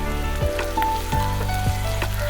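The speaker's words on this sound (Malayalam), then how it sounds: "ഇനി നമുക്കിതിലേക്ക് അരിഞ്ഞു വെച്ചിരുന്ന സവാള ചേർത്ത് കൊടുക്കാം." Chopped onion sautés in a pan for a vegetable kurma, giving a continuous close sizzle with a few spatula scrapes and clinks against the metal.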